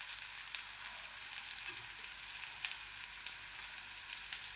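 Kadala curry masala sizzling steadily in a hot pan, a bright continuous frying hiss with a few soft scrapes as it is mixed, close and alone without voices.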